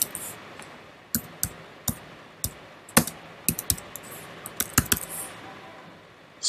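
Sparse, irregular clicks of keys being typed on a computer keyboard, close and crisp, with short pauses between strokes and no talking.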